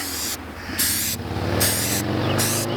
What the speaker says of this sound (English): what I'm going to do is put a little more air in it.